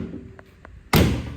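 A Datsun car door shuts with a single solid slam, preceded by a couple of faint taps. The impact rings out close and loud, then decays into a short rumbling tail.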